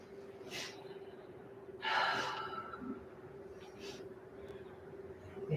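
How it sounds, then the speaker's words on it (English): A deep breath drawn during a yoga session, a soft airy inhale followed later by a broader exhale, close and quiet over a steady low hum. "Taking a nice deep breath."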